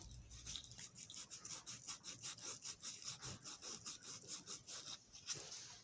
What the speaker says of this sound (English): Grab a piece of sandpaper and